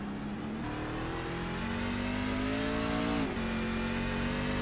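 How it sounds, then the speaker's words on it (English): A racing truck's engine on the Daytona road course drones steadily at high revs, its pitch climbing slowly, dipping sharply at a gear shift, then settling into a continuous loud roar. "Turn this up and listen to him go around this track"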